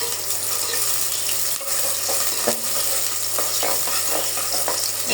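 Onion and garam masala sizzle and fry in hot oil for pulao. The crackling is steady and close, with occasional stirring scrapes and no voices.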